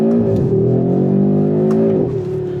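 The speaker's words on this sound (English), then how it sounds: "Like, that shift was really crisp. And listen to that sound." Audi RS3 with a dual-clutch gearbox accelerating, its loud engine drone dipping and climbing through quick gear changes, close and alone.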